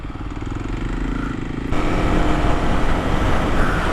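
Kawasaki KLX300 dual-sport motorcycle ridden through the Joshua Tree desert, with a steady engine drone and road noise that grows louder and rougher midway through, continuous throughout.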